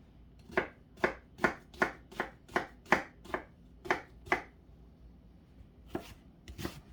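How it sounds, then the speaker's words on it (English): Onions for garden salsa are diced on a cutting board, giving about a dozen crisp, evenly spaced knife chops close by, with a short pause before a few final cuts. "we're going to go ahead and get our onions diced up and then throw that in the mixture"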